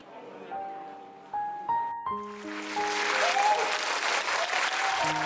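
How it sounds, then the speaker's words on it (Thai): Loud, sustained applause breaks out in a Bangkok cinema as the final screening ends, rising to a dense roar after a few sustained musical tones from the film's closing score. "เสียงปรบมือดังกึกก้องหลังจากซินีมาพาราดิโซภาพยนตร์เรื่องสุดท้ายที่โรงภาพยนตร์สกาล่าจัดฉายจบลงอย่างเป็นทางการ"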